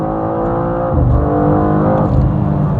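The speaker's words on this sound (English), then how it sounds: "Foot flat on the gas, preparing launch control" BMW M2 Coupe G87 launches hard with launch control engaged, its engine holding a loud steady drone before surging into a rising, rough acceleration roar close by.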